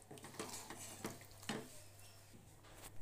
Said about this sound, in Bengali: মাংসটা দিয়ে দিয়েছি, এবার এটাকে ভালো করে মিশিয়ে দিতে হবে মশলার সাথে আর কষিয়ে নিতে হবে সুন্দর করে।